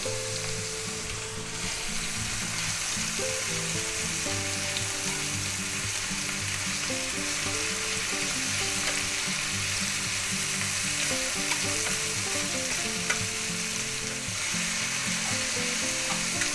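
A quarter-pound of all-beef ground hamburger frying in a pan with minced garlic gives off a steady, close sizzle with light stirring scrapes throughout, no talking.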